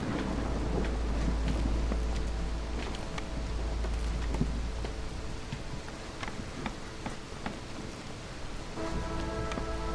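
A thunderstorm in the video game Against the Storm: steady rain hiss with low rumbling thunder underneath, continuous and fairly loud, with no voices.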